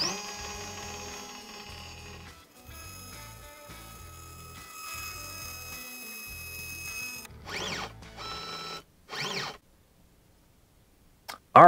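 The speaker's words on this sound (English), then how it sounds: "Let's go ahead and home the machine." A Genmitsu 4040-Pro Max CNC router homes its axes, with stepper motors whining and humming in stop-start bursts, rising and falling tones as axes move, and a sharp click at the end.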